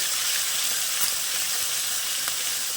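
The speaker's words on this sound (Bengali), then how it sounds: "জিরে বাটা, দিয়ে ভালো করে এটা কষিয়ে নেব।" Cumin paste frying and sizzling in a pan for a Bengali-style shrimp and vegetable curry, a steady close hiss with faint stirring scrapes and no talk.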